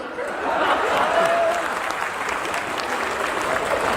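An audience at a Hindi comedy poetry show claps in sustained, even applause that holds for several seconds, with a faint chuckle mixed into the crowd noise.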